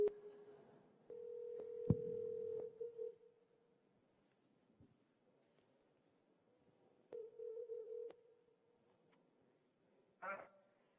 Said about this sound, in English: as we call his cell phone